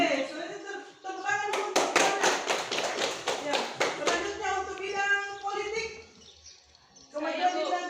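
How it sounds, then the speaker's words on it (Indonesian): A classroom audience claps in a burst of rapid, dense hand claps lasting a few seconds, with speech before and after it. "selanjutnya tepuk tangan untuk"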